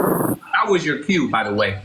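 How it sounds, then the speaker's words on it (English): A dog growls in short rough bursts while someone talks over it, the growls loud and close between and under his words. "Oh, that was my dog, man."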